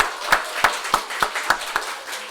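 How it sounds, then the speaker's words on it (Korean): A church congregation applauding at a Sunday service, about seven separate, evenly spaced claps ringing close and fairly loud in an otherwise quiet room. "우리 박수로 환영합시다"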